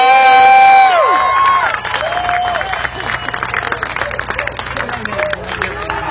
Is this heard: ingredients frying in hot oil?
no